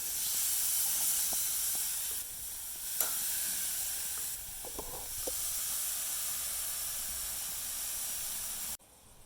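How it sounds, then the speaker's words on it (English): Marinated chicken sizzles on a grill in a steady, close hiss, with a few faint clicks and taps over it and the sizzle cutting off abruptly at the end. "Let's listen to that sizzle."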